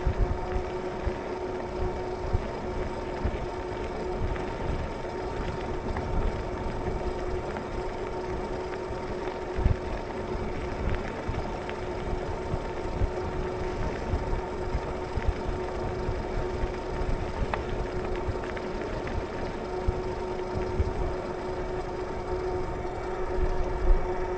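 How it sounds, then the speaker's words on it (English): Steady, loud wind rushing across the microphone while riding an e-bike into the wind, a continuous roar with a low hum beneath it and no voices. "it's windy, so I'm going into the wind right now"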